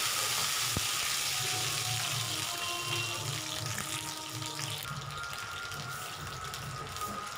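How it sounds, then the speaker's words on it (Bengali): Water pours steadily into a hot pan for besan dhokla and keeps up a continuous hiss and sizzle. The sound is moderately loud and stays alone, with no talk over it. "এবার আমি দিয়ে দেব জল।"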